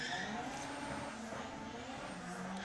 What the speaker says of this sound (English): Solo run for the Civic, doing a lot of wheel spin.